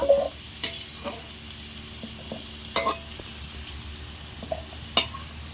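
Potatoes fry in a pan while a fish curry is being made, with a soft continuous sizzle broken by a few spaced spatula scrapes and knocks against the pan.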